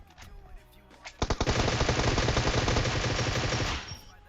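Sustained rapid automatic gunfire in a video game, a dense loud burst lasting a few seconds after some quieter background sounds, then cutting off.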